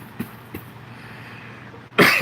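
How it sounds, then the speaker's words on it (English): A single short cough breaks through near the end after a couple of faint bumps, heard close in a quiet amp repair shop room. "Stupid cough."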